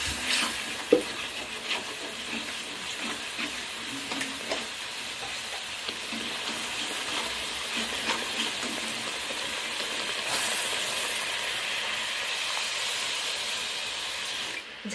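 Mustard chili curry sauce for rohu fish tel jhal bubbling in a pan, giving a steady close sizzle and crackle with faint intermittent stirring knocks, unbroken by speech.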